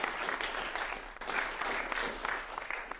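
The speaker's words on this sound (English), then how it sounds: "I think you can give yourselves a round of applause" A debate audience and panel applaud at the close of a discussion on the future of Durham, with moderate, fairly distant clapping continuing evenly for about three seconds alongside a low hum.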